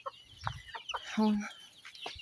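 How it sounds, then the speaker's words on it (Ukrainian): Hens cluck in a farmyard among chicks, several close, irregular clucks and short calls with a brief sustained squawk partway through. "Зараз пройду, подивлюся, що тут кури."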